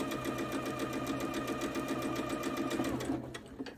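A sewing machine stitches quilt blocks together in a steady, continuous run of rapid needle strokes, loud and close, easing off near the end as the stitching slows.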